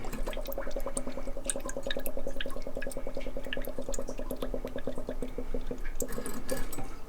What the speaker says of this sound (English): let it fill until we quit hearing the bubbles